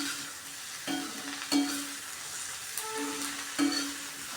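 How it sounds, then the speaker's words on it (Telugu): A spoon scrapes and stirs a hand-made broad bean curry with masala and chilli in a sizzling pan after coriander goes in, giving a steady fry hiss and a few distinct clinks and scrapes, close up with no talking. "ఇప్పుడు కొత్తిమీర వేసి ఒకసారి 2 సార్లు కలిపితే రెడీ అయిపోతుంది కూర"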